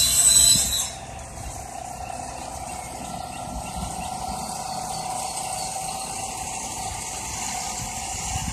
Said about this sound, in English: Doing some sawing, cutting it for it to fit.